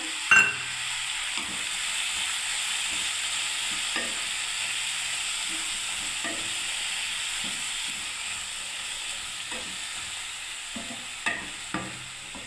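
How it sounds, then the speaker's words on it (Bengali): Sweet tomato chutney with turmeric, ginger and salt frying in a pan, giving a constant hissing sizzle with occasional soft knocks and scrapes from stirring, a sharp clank at the start and a few near the end. "এবার আমি একটু নেড়ে ছেড়ে দিচ্ছি বন্ধুরা"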